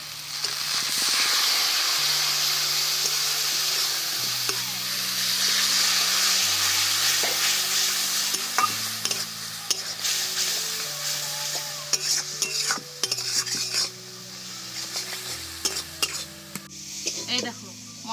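Ground chilli, cumin and coriander masala sizzling in a pan for a Bengali mustard-oil fish curry, a steady hiss broken by scraping spatula strokes and clinks against the pot, with light background music.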